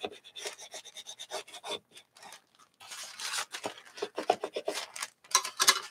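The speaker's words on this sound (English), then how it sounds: "Burnish it down." Paper pressed onto an art journal page is burnished by hand, producing close, rhythmic dry rubbing strokes in quick bursts with brief pauses between them.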